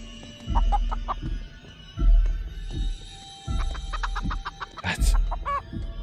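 A chicken in a video game clucks in short repeated bursts, about five or six groups of sharp clucks at a steady rhythm, close and fairly loud with no talking.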